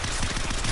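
Rapid MP5 submachine gun fire from the zombie shooter game SAS Zombie Assault 3, a dense, fast stream of loud shots packed into under a second with no pause.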